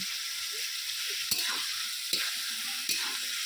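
Marinated chicken and potatoes for a chicken curry fry in a pan with a steady, close sizzle, broken by three sharp scraping stirs spaced about a second apart.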